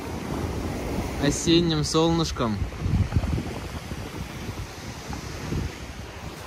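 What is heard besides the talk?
Black Sea waves on the shore in Sochi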